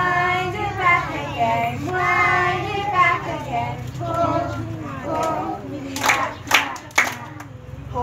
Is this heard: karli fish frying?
no